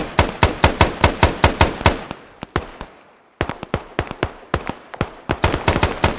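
Rapid automatic gunfire in the military video game ArmA 3, loud and close, with long rattling bursts of evenly spaced shots and a brief pause in the middle.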